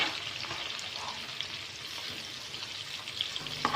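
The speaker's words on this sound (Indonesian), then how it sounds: "kita masukkan ikan teri yang sudah kita cuci bersih tadi" Washed anchovies frying in a pan for sambal balado, a steady close sizzle and crackle throughout with a brief louder burst near the end, no talking.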